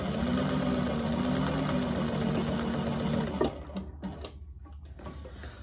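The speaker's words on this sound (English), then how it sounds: "I always like to run a little piece through when I've changed the bobbin." Sewing machine stitching a test piece after a bobbin change, a fast, steady mechanical whir close by for over three seconds that stops abruptly, followed by a few soft clicks and handling noises.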